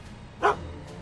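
A dog in the Back to the Future Chapter 2 video game gives a single short, close bark in an otherwise quiet moment.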